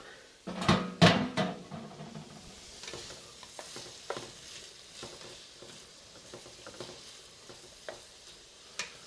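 Chicken being sautéed in a pan for balsamic chicken meal prep, with a soft steady sizzle under scattered utensil stirs and scrapes, and a couple of louder clanks near the start.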